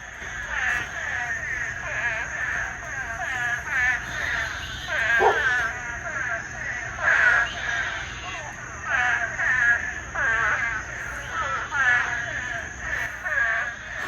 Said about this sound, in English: I think these are tree frogs.